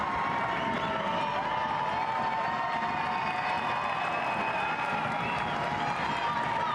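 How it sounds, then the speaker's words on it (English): A stadium crowd at a 2024 Concacaf W Gold Cup women's soccer match between the United States and the Dominican Republic applauds in a continuous, even roar of clapping and cheering, heard from a distance, with no pauses. "Lots of applause for Olivia Moultrie"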